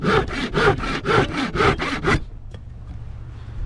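Hand saw cutting through wood for a garden tool handle, eight close rhythmic push-pull strokes at an even pace, then the saw stops and a faint knock follows in near silence.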